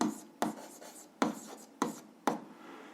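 A pen or pencil writing on paper in short, distinct scratchy strokes, five quick bursts with pauses between them, close and fairly quiet, no voices.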